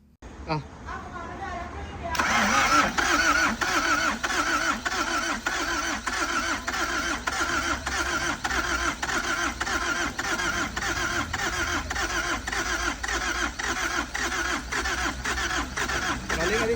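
An old engine started on its third attempt after oil is added, heard close up as a loud, steady, rhythmic chugging that runs for about fifteen seconds, with someone talking briefly just before it starts.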